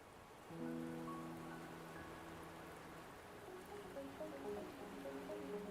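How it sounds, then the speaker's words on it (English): Steady rain hisses as an even wash in the video game Wuthering Waves, starting after a brief quiet moment and continuing softly and evenly beneath faint tonal game music. "Don't worry, the rain won't last much longer."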